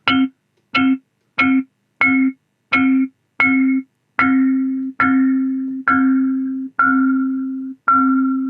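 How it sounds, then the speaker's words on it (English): A dozen sampled instrument notes play one after another in Reason's NNXT sampler, the early ones short and clipped, the later ones held longer with a pitch bend at each note's end. "it's doing some sort of a pitch change here on the end of the note"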